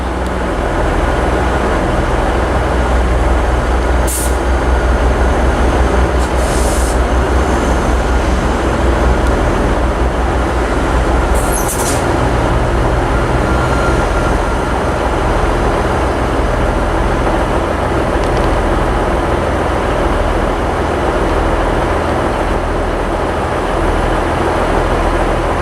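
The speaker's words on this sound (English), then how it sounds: "So out goes 1053 ScotRail service from Alloa to Glasgow Queen Street." A ScotRail diesel passenger train departs Stirling station toward Glasgow Queen Street on the local stopping service from Alloa, its engine a loud, steady drone with wheel and rail rumble that holds for the whole stretch, with no talking.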